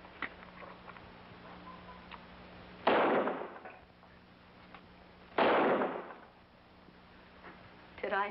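Two sharp gunshots ring out a few seconds apart in a western TV episode, each with a loud crack and a ringing, decaying tail, over a quiet background with faint voices.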